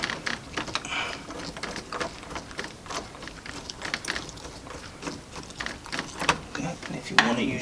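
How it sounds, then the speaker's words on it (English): Small irregular scraping clicks and ratcheting taps as a screw is turned in by hand to fit a door entry lock, close and fairly quiet, with no talk. "Make sure you hold the other end as you're screwing it in."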